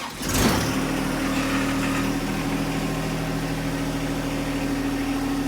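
A John Deere 1025R compact tractor with a mower deck fitted cranks and starts, then settles into a steady, close, loud diesel idle that runs on alone.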